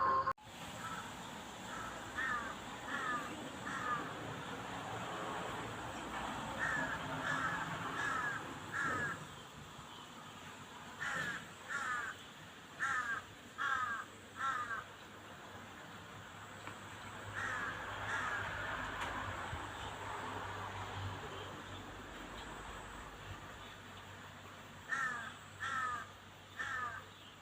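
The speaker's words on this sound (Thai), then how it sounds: "เสียงการ้องอยู่หลังบ้านจ้ะ" Crows caw outdoors in short repeated bursts of three or four harsh calls, separated by pauses, over a steady background hum.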